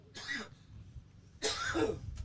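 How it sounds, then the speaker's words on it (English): Two harsh, close coughs separated by a short pause, each a loud raspy burst. "I'm going to cough."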